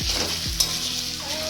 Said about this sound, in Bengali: এখানে রান্না হচ্ছে, পেঁয়াজ ভাজা চলছে।